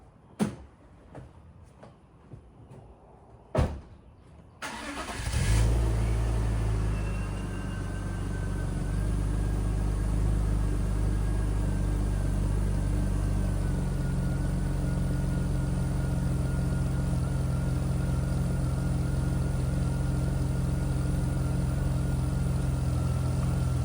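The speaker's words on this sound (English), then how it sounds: "So I'll pull them each out of the garage so you can see them a little bit better." A car engine starts up inside a residential garage and settles into a steady, loud low idle and rumble as the cars are pulled out one by one, following a few sharp clunks and door sounds.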